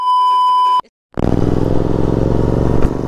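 Continental GT 650 motorcycle engine under way, a loud steady rumble that starts after a short beep and a pause, then holds strong to the end.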